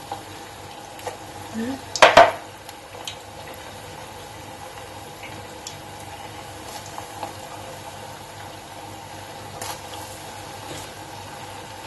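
Moroccan potato cookies dropped into hot oil in a pot give a soft, steady sizzle, with a sharp clatter of utensils near the start and a brief word spoken.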